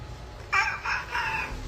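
A performer in a mimicry act imitates a rabid rooster crowing. It comes as three strained, nasal crowing bursts in quick succession, close and fairly loud over a low background rumble.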